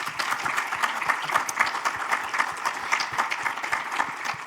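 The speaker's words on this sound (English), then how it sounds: "please join me in one last round of applause for our dedicated partners" Audience applause at a healthcare panel event, a dense steady clapping from a crowd lasting throughout, fairly loud and even with no speech over it.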